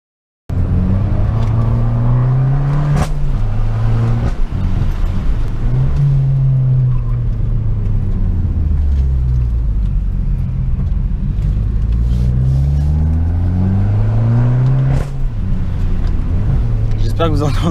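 A 165 hp Abarth with a free-flowing, always-open exhaust revs and pulls repeatedly, its loud raspy engine note rising and falling steadily while driving, with a voice talking briefly over it.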